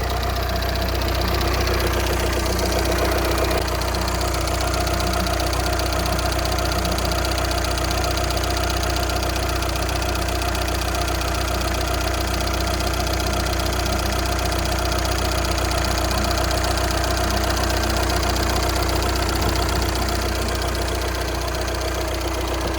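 A 2014 VW Passat TDI diesel engine with a newly replaced thermostat idles on ramps, a steady, loud, unbroken clatter with a low knocking rhythm running throughout.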